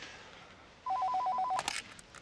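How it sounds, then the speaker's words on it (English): A telephone rings with a short burst of rapid electronic trills, fairly clear over a quiet room, then stops abruptly with a brief clatter as it cuts off. "My phone's ringing."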